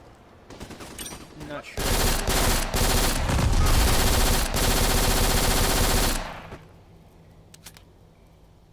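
Sustained burst of SMG automatic fire, a weapon chambered for assault rifle ammunition with 100-round magazines, in the shooter video game Black; loud continuous rattle of about four seconds, flanked by scattered quieter shots and brief talk.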